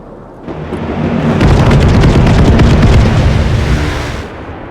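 Close air support strafing run in the video game Broken Arrow: loud, rumbling explosions and rapid impacts build into a sustained, dense roar for several seconds before fading.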